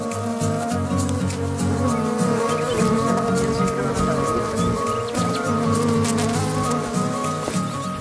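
Swarms of bees drone around a large apiary of beehives, a dense, continuous buzz close by that holds steady throughout, with a voice faintly in the background.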